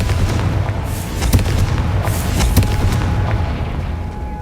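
A Confringo fire spell explodes in Hogwarts Legacy, a loud booming blast with crackling bursts and several sharp impacts over a dense, rumbling low roar that carries on throughout.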